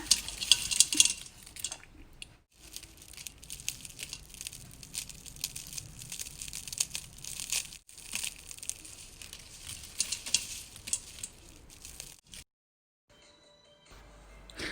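Crisp, dry crackling and rustling of fried shallots being stirred, a steady scratchy texture with occasional clinks, continuing without speech before a brief pause.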